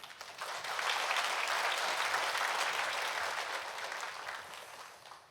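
A church congregation applauds at an Easter-week dawn prayer service, a steady wash of many hands clapping that swells quickly, holds evenly for several seconds and then tapers off, with no talk over it.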